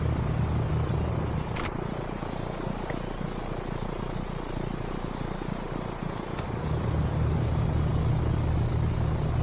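The propeller engine of a Mooney M20R Ovation in the X-Plane 11 simulator drones in a steady, continuous hum with a slight shift in tone partway through.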